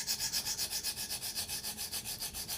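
A knife blade rasps back and forth on a KME sharpener stone in an even rhythm of about eight strokes per second, close and moderately quiet, with no voices.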